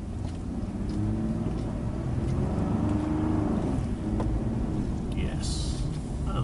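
A car on General Grabber X3 all-terrain tyres driven hard off-road, engine rising and straining under a steady rumble of tyres over rough ground, with a voice talking over it.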